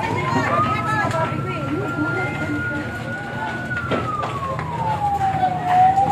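A wailing siren from an emergency vehicle, likely a fire truck, rises and falls steadily as crews arrive at a building fire in San Carlos City, Pangasinan, over loud crowd and street noise while people talk nearby.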